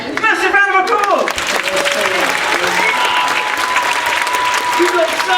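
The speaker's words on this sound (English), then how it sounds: "Massive round of applause." Loud, continuous clapping from a crowd fills the whole stretch, with voices and cheers mixed in.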